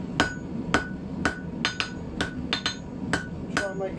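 A blacksmith hammering hot steel on an anvil to forge an icicle, a steady series of about a dozen sharp ringing metallic strikes, close and clear with no voices.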